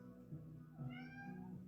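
A pet cat gives a single drawn-out meow, close and soft, rising and then falling in pitch, with no talking.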